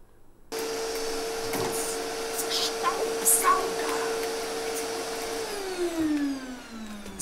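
A vacuum cleaner switches on abruptly and drones steadily at close range with a loud, even whine. Near the end its pitch slides downward as the motor winds down.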